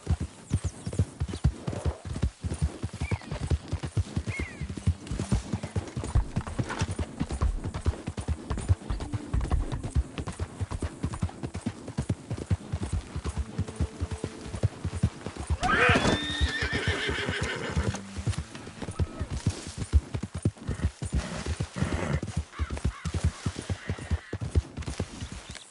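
Horse hooves clip-clop steadily while the horse neighs and whinnies several times in Red Dead Redemption 2, over a game soundscape with a low hum.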